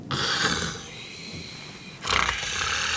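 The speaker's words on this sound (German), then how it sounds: "8 wunderbare Schnarcher." Two loud, rasping snores, one at the start and one at about two seconds, each a harsh drawn-out breath with a quieter breathy stretch between them, close and alone, in a Sesame Street scene.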